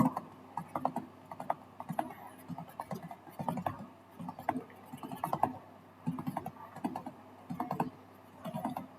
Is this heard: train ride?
no